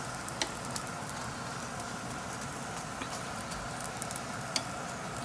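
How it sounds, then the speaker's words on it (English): A Guyanese oil roti sizzles steadily on a hot griddle, a constant soft crackling hiss with faint occasional ticks, close and unbroken throughout. "Nothing beats the smell of fresh roti cooking in the morning."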